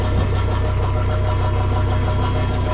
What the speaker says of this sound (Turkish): Şu an altımızdaki motor hemen çalışmaya başladı.